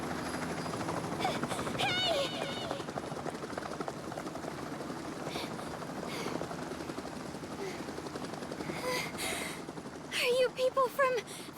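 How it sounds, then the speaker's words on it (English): A helicopter arrives in the Danganronpa Ultra Despair Girls video game, a continuous rotor thrum running under a short shout, clinking game effects and a burst of louder activity near the end. "Oh, there's a helicopter. Got there quick enough."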